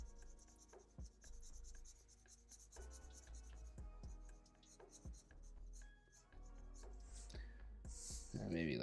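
A pencil scratches and shades a drawing of a female character on paper in quick rubbing strokes, with short bursts and pauses and occasional soft taps, fairly quiet and close.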